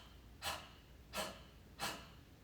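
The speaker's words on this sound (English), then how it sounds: "If I do it from my mouth, it sounds like a panting." Three sharp, evenly spaced breathy exhales pushed out through the mouth in Kapalabhati yoga breathing, sounding like panting, close and soft with quiet pauses between.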